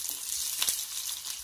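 Small onions sizzling in sesame oil in a kadai, a steady close crackling hiss with a brief stir partway through and no talk.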